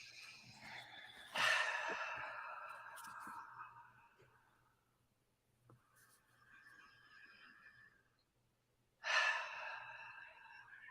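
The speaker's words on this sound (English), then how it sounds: "with your eyes closed, if you would like to take a couple of deep breaths" Slow deep breaths during a guided meditation: two long, loud exhales come close to the microphone several seconds apart, with a softer breath between them and quiet stillness around.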